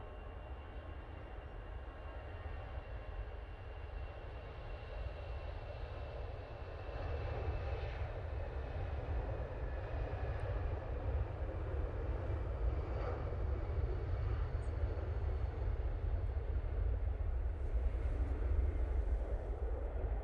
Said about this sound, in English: EasyJet A320 CEO. Now on the roll.